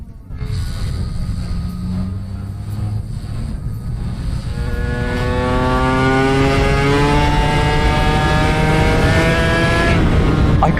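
Vespa 50 Special scooter tuned to 58 hp, engine screaming at high speed near 125 mph, loud and close, pitch climbing steadily as it accelerates and then holding a sustained high whine.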